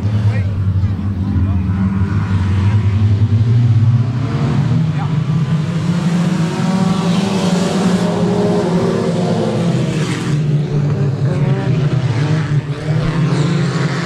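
Race cars at Timberline Speedway roar in a loud, continuous engine drone that swells and fades as they pass, with an announcer talking over it.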